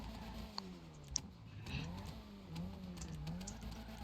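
A modded Nissan 180SX driven in GTA 5 gives a faint, low engine drone that rises and falls gently, with a few sharp clicks on top.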